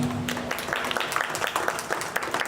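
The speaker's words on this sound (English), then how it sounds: "Please give them a round of applause." Audience applause at a 4-H and FFA hog show in Jackson County, a brief, dense round of clapping from a crowd indoors, steady and moderately loud.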